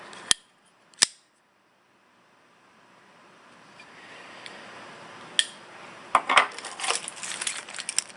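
Dirty keys are handled close by, with two sharp metallic clicks at the start, a rising rustle, then a cluster of jingling clinks toward the end.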